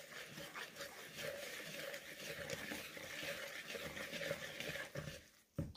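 Garbanzo bean flour dough being stirred with warm water in a bowl for flatbread, a steady wet scraping and sloshing that runs throughout at moderate, close range, ending in a brief louder knock.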